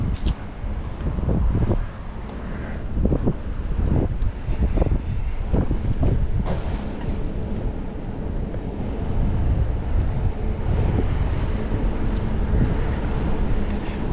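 Wind buffets the microphone while cycling along the Danube river path, a loud continuous roar with gusty low-frequency thumps and no pause.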